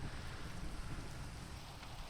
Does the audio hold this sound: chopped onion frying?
no